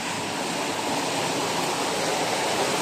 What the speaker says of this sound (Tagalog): Grabe at malakas na talaga yung baha